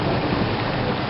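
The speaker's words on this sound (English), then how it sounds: "We have a storm that's lasted. We've had thunder and lightning for about 15, maybe 20 minutes." Heavy rain pouring down during a thunderstorm, a dense, loud, unbroken roar of water close by with no voices.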